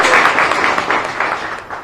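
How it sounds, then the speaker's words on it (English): Brief, steady burst of audience applause at an address by Ramaphosa at The Ranch Resort, a dense close wash of clapping lasting a couple of seconds with no clear voices. "Let's give him a round of applause."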